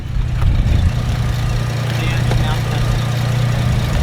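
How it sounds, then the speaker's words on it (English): A Holden Commodore SV6 or Ford Falcon XR6 engine idles steadily with a deep, even rumble held at a constant level throughout, close by and without talk over it. "Now, what's that engine sound like?"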